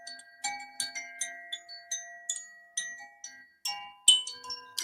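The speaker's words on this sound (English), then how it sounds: "bringing us back into our 3D bodies, I use this beautiful chime" A meditation chime is struck again and again at a steady, unhurried pace. Each bright metallic strike rings on into a long, shimmering decay, faint and alone, with no talking.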